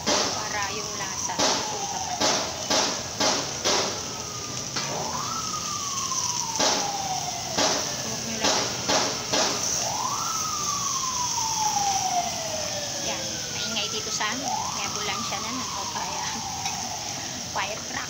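A fire truck siren wails, sweeping down in pitch over and over, passing over steady sizzling and scattered clinks of sauce being stirred close by on a street.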